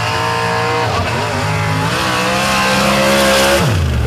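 A nitrous drag racing car makes a run at a drag strip, its engine roaring loud and sustained with rising and shifting pitch, a sharp pitch drop near the end as it passes.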